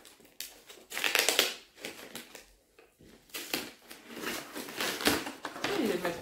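Sticky tape pulled from the roll and pressed down while wrapping gifts, heard as repeated close, rasping tearing bursts with short pauses between them.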